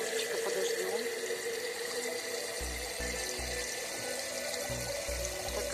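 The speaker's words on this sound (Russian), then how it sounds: "наливаю из крана в эту баночку воды." Tap water runs into a clean small glass jar in a village home with dirty drinking water, a constant close splashing rush with low gurgling thumps as the jar fills.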